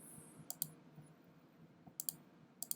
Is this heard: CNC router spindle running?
no